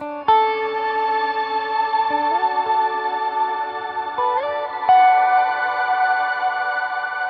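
Bright, electronic-sounding pitched tones from a Meris MercuryX pedal's spectrum shift effect, with stacked octave harmonics stepping upward in a few distinct shifts, sustained and steady, with no voices.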